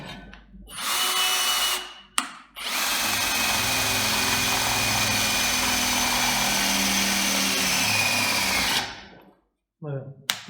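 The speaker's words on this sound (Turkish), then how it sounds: "Yani eğer ki bundan destek almazsam delmem çok zor." An Einhell TE-CD 18 Li BL brushless cordless drill driver whines steadily under heavy load for several seconds, loud and close, starting and stopping briefly before a long continuous run.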